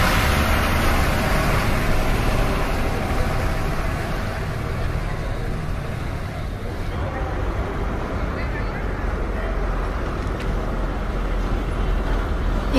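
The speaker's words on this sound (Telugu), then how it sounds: "ఇక్కడ వస్తున్న bus Vikarabad to Tandur to Hyderabad." A KSRTC bus pulls into the Tandur bus stand in Telangana, its engine rumbling steadily and loudly under constant traffic noise and the babble of a crowd.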